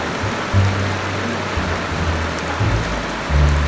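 Rain falls steadily over open rice fields, a continuous broadband hiss of drops striking water and ground, with no voices heard.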